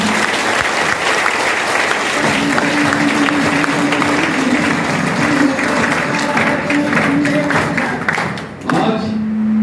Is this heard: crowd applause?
yes